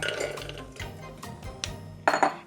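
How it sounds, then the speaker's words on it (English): Frozen blueberries, about 300 grams, tipped into a pot, a quick scatter of hard clinks and rattles against metal ending in a couple of louder knocks, close and brief. "So I've just got 300 grams of frozen blueberries. I'm gonna pop them straight in a pot."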